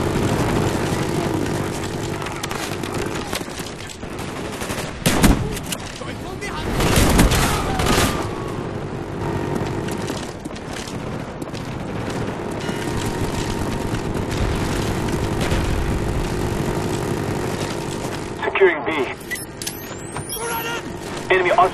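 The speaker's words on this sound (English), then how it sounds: "Friendly spy plane inbound." A spy plane droning overhead in the shooter Call of Duty Black Ops, a steady propeller-engine hum lasting throughout, joined by intermittent louder gunfire bursts and radio-style announcer voices.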